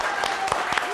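Studio audience of a Turkish television talk show clapping, a brief patter of applause with a few sharper claps, moderately loud under a busy room.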